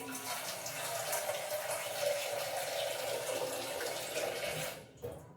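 Water is poured or run into a pot to be boiled, a steady rushing splash lasting several seconds before cutting off, followed by a brief clunk.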